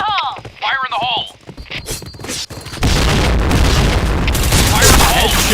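A grenade goes off in a multiplayer video game shooter: voices shout first, then a loud, full blast hits and rolls into a sustained rumbling roar that fills the rest of the clip.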